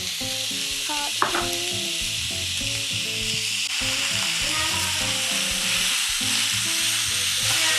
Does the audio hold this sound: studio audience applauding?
no